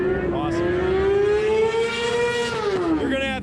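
Motorcycle engines scream at a stoppie stunt competition, one high engine note rising and then falling as it revs, loud and near, while a person talks over the noise.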